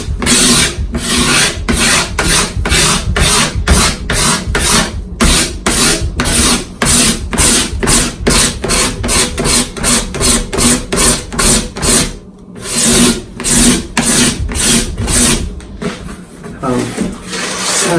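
Steady back-and-forth rasping of a file or sanding block smoothing a glued wooden joint level on a hot rod build, with dense rhythmic strokes that are loud and close and pause only briefly.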